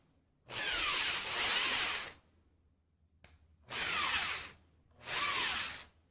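A drill cuts material at the top of a hole in a brass shaft in three bursts of high whining grind, each a second or two long, separated by silent pauses, close and loud.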